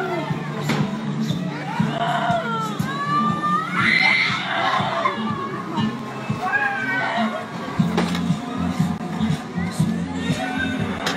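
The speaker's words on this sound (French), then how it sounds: "ils sont en train de crier les gamins, il faut les aider là" Children scream and shout at a crowded funfair where people are affected by gas, shrill cries rising over a noisy crowd as adults talk nearby.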